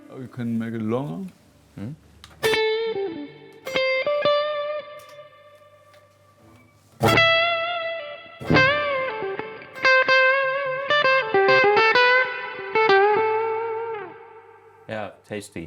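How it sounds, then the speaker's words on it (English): Electric guitar played through a Neunaber Wet reverb pedal rings out in separate chords and picked notes, each one trailing off into a long, bright reverb tail, with short silences between phrases. "I'm using a lot of the Neunaber wet reverb, which is my favorite wet."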